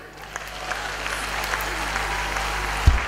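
An audience applauds at an award ceremony on stage during Saikal Sadybakasova's 15-year stage anniversary event: dense, sustained clapping from a large crowd, even and full, ending with a sharp thump.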